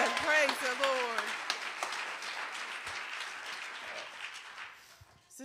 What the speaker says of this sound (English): Let's give God another hand clap of praise for what he's doing.